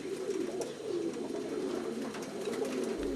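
Racing pigeons at a breeding and racing stud loft coo steadily in a soft, continuous murmur of overlapping calls, moderately close, with no voices.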